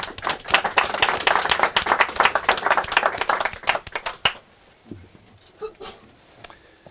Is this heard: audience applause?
yes